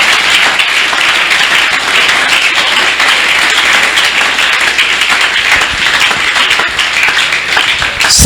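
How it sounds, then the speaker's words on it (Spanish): A church congregation claps loudly and steadily, a dense, sustained wash of applause filling the room for several seconds. "Si ese aplauso es para el Señor, yo quiero que usted se lo dé fuerte."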